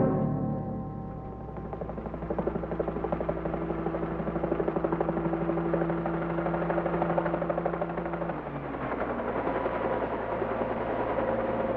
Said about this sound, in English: I'll send the chopper right away.